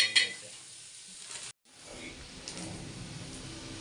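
A buttered sandwich warms on a hot griddle with a steady, low sizzle, broken by a brief silent gap, with light stirring and scraping sounds close by.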